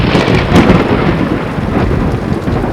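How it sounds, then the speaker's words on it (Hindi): Heavy thunderstorm with loud, dense rain pouring down and deep rumbling thunder rolling throughout, close and continuous with no voices. "तूफान जोरों पर था।"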